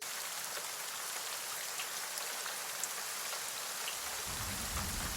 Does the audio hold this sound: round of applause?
no